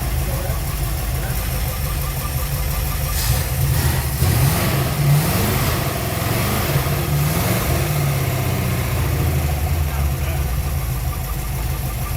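A Chevy small-block V8 fitted in a Porsche 944 race car, solidly mounted, rumbles steadily near the microphone with a few rising revs partway through while people talk over it.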